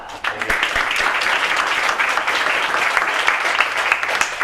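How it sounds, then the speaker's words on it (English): A large audience gives a speaker a round of applause, a dense, loud, continuous wash of clapping that starts abruptly and holds steady throughout. "So please give a big round of applause to Klaus Meyer."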